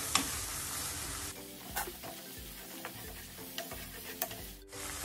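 Whole spices, bay leaf, dried chillies, cinnamon, cloves and cardamom, frying in oil for a restaurant-style shahi chicken rezala, give a soft, steady sizzle with a few faint stirring clicks and scrapes, quiet and close, with no speech.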